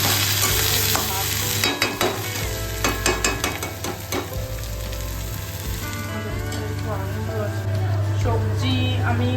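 Two kinds of fish fry in a pan with a dense, steady sizzle. Repeated stirring and scraping clinks and a low hum run beneath it.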